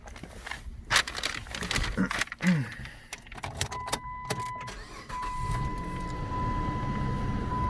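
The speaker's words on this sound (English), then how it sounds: "once you have pierced the can, now you will start your vehicle" A Chrysler Sebring engine is started and left running during an A/C recharge. Keys and clicks come first, then the engine settles into a steady idle hum with a faint whine, with a voice heard briefly.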